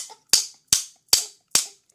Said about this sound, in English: So we bang them really hard and we get the nails in.